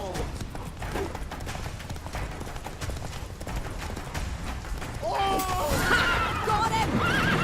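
Steady galloping hooves from Roach, the horse in The Witcher 3, carry under voiced dialogue, then a loud neigh rises near the end.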